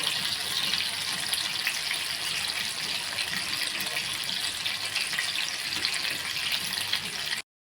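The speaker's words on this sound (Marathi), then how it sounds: "आता हे आपल्याला मीडियम गॅसवरच छान असे तळून घ्यायचे" Bombay duck (bombil) fritters fry in oil over a medium gas flame, a loud, dense, continuous hiss and crackle that runs unbroken until it cuts off abruptly near the end.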